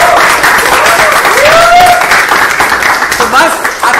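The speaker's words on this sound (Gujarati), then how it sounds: "તાળીઓનો ગડગડાટ બહુ જ લાઉડ એન્ડ ક્લિયરલી તમને કહી રહ્યો છે" A theatre audience applauds a film's star cast at a Gujarati music and literature event, with sustained, loud clapping from the crowd and a voice speaking over it.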